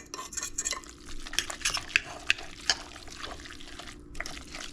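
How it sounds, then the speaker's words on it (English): Fried rice stirred in a pan, soft scraping and clinking of a utensil against the pan with a few sharp taps, quiet and close, no talking. "Stir it up so you don't see the white anymore."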